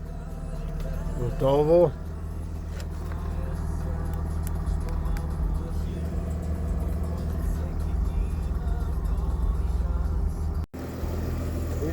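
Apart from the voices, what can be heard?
Mercedes-Benz W221 S-Class engine starting and idling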